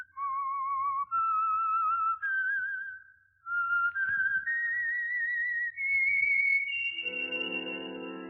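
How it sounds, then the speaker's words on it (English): A lone clear whistle carries the theme tune of The Whistler radio program, a rising stepwise melody of sustained notes with a short pause midway, ending as an orchestral chord swells in. "Let that whistle be your signal for the Signal Oil program, The Whistler"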